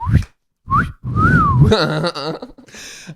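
A parakeet whistles a catcall-like phrase: a few short chirps, then a rising-falling wolf whistle followed by warbling, bright, clear and close.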